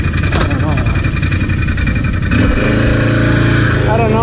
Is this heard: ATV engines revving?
yes